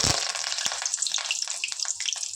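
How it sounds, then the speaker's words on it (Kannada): Tempering of asafoetida and curry leaves in hot oil for a tomato chutney, a close, bright crackling sizzle with small spatters, steady throughout. "ಒಗ್ಗರಣೆ ಹಿಂಗು ಕರಿಬೇವು ಹಾಕಿದ್ದೀನಿ."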